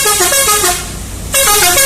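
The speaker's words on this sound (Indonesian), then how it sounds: "Teloletnya bang." Ambulance telolet horn playing a bright multi-note melodic tune loud and close, pausing briefly midway before resuming the musical honking pattern.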